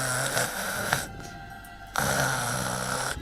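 A storyteller imitating snoring with the voice, giving loud, raspy, rumbling breaths with a short pause in the middle before the snore resumes.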